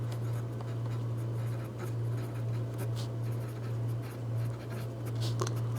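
Steady pen-on-paper writing as a math solution is worked out, continuous scratching strokes close up over a constant low hum, with no talking.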